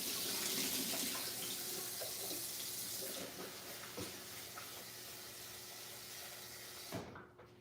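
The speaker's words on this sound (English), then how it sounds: "Then we rinse the mushroom." Tap water runs steadily into a kitchen sink while mushrooms are rinsed under it, a constant hissing stream with small knocks and handling noises that stops abruptly near the end.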